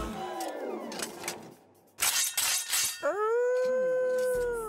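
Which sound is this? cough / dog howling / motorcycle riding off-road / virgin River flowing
dog howling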